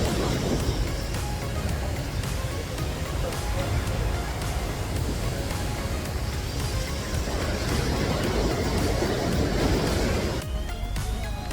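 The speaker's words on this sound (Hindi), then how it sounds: "बहुत ही मस्त वाटरफॉल है" Pykara waterfall near Ooty roars as a dense, continuous rush of falling water close by, broad and steady throughout, with wind buffeting the microphone and a brief change in texture near the end.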